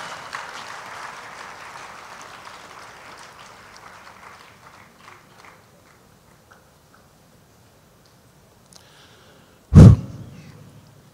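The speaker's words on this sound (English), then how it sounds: "I think we can do better by giving them a better round of applause" Applause from a church service audience, moderate and fading steadily over several seconds into near silence, followed by a single sharp loud thump near the end.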